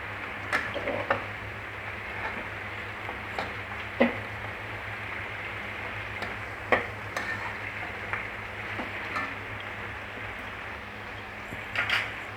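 Ground green chutney frying in leftover oil for Dhaba style green chicken, a steady low sizzle with scattered scraping and stirring clicks, fairly close and without talk.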